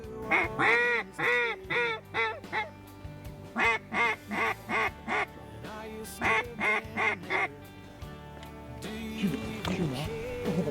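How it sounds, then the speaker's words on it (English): Loud, rhythmic mallard duck quacking in repeated bursts during a duck hunt in Washington, several calls close by in quick succession, with a brief pause before more scattered quacks. "and then here come the mallards"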